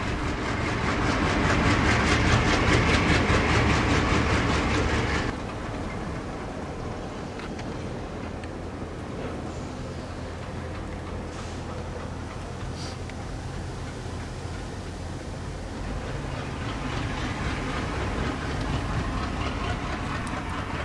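ALCO diesel locomotives on the Delaware Lackawanna in the Poconos reverse a train, a loud engine roar for the first few seconds that drops to a steady, lower idling rumble with some rail noise.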